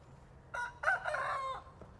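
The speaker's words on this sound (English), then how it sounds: "Actually, they're crowing at Bruno" A rooster crows once in a flock of chickens and guinea fowl, a single drawn-out call close by over faint background noise.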